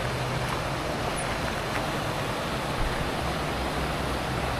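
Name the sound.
small river stream flowing in forest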